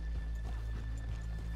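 Hooves of horses in Red Dead Redemption 2 clip-clop at a walking pace in a steady rhythm, close by and moderately loud over a low background hum.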